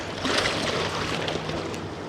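Waves slosh and wash steadily against a fishing boat out on the water during a catfish tournament, a continuous broadband rush with no talking.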